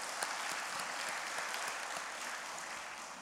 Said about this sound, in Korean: 서로를 위해서 격려의 박수를 보내주시면